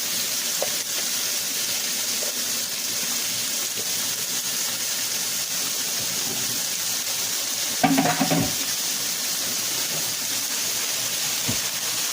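Smoked beef brisket sautéing in its own juices in a pan, an even, close sizzle throughout, broken by a brief clattering stir near the middle, with no voices.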